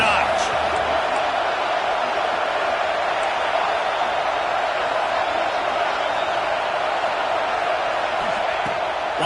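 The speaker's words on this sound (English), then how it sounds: "this crowd is turning it up a notch" Football stadium crowd at a Wisconsin vs Indiana game, a steady dense roar that swells in volume, filling the whole stretch with broad noise.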